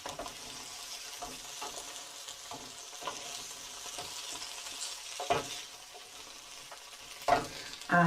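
Broccoli, bacon lardons and cashews sizzle in a pan as they are stirred, a steady soft frying hiss broken by occasional scraping clacks of the utensil, with no talking.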